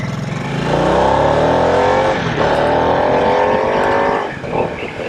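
A Harley-Davidson Nightster motorcycle, a light 481-pound bike with 90 horsepower, accelerates hard close by, its engine note rising through a loud sustained pull before easing off.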